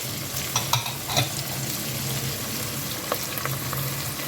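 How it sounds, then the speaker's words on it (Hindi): Spice masala with turmeric, crushed and ground red chilli and salt frying in a pan for okra bhindi, a steady sizzle with scrape-like stirring strokes and light crackles, close and without talk. "ये इसको हम अच्छे से भून लेंगे"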